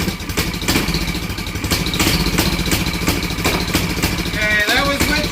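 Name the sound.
mini bike engine starting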